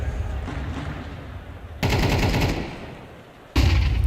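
Rapid automatic gunfire in a Counter-Strike esports match, loud bursts of rifle shots in two sharp volleys amid a busy in-game background.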